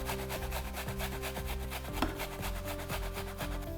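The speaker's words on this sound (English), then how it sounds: "I'm going to grate 1 onion." An onion is grated by hand for a vegan pumpkin kibbeh, giving a steady, rhythmic rasping scrape with regular strokes, close and alone.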